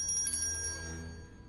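Small hand bell ringing in a cartoon, a bright metallic jingle with sustained high tones that fade over about a second and a half, heard close and alone.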